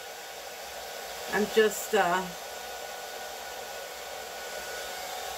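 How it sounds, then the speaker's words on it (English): A hair dryer runs with a steady, even whir for the whole stretch while an acrylic pour painting is made, and a voice speaks briefly over it. "I'm sorry I didn't shut off the dryer, guys."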